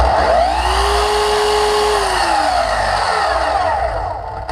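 A Festool Kapex miter saw motor runs on its own, a loud close whine that holds steady and then winds down near the end.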